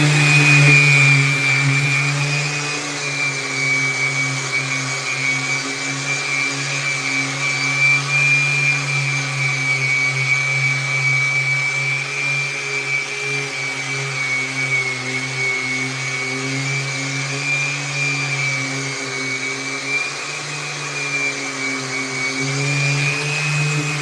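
An orbital sander shaping a skateboard runs with a Festool dust extraction vacuum attached: a steady motor hum and high whine with an airy roar, unbroken from start to finish.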